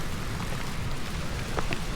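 Light rain falls at a Caribbean beach, a steady broadband hiss of drops with low rumbling surf underneath and a couple of faint ticks, even and continuous throughout.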